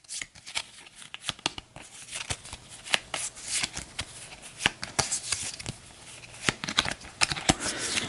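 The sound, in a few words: shuffling the turn order deck cards, Astro Knights board game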